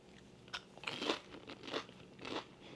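Crunchy tofu is chewed up close, with several crisp, crackling bites in an uneven rhythm and no talking.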